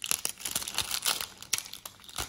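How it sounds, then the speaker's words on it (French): Adhesive putty being torn apart by hand, a quarter of a small slab pulled off with the fingers, giving a series of close, crinkly tearing and crackling bursts with no speech. "on va venir couper à peu près un quart de la plaquette. On peut le faire avec les doigts"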